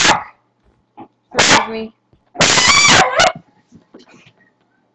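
A dog yips and barks in short, loud, close bursts, with whimpering tones between them and a brief spoken word near the end.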